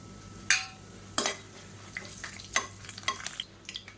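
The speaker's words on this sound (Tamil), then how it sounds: "இப்போ எண்ணெய் நல்லா சூடாயிருச்சு கரம் மசாலா எல்லாம் சேர்த்துக்கலாம்" Whole spices like cinnamon, cloves and cardamom plus curry leaves dropped into hot oil in a cooker, sharp crackling sizzle bursts and a few stirring clinks, quiet between pops.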